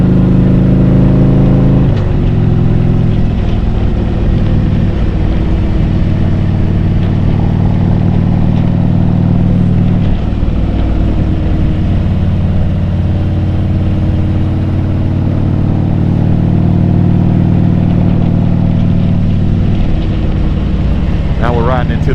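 A Harley-Davidson Street Glide with a 124 cubic inch performance engine rides along an open road, its loud, steady engine drone running continuously throughout with a deep rumbling tone and little change in pitch.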